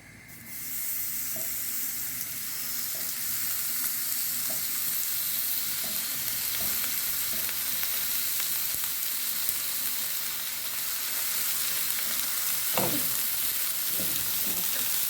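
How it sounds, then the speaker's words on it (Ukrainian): Pork belly sizzles steadily in a hot pan, a continuous crackling hiss with occasional sharper pops, close by and with no talking. "І хай смажиться."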